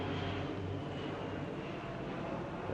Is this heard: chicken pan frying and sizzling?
no